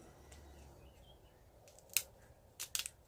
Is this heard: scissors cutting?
yes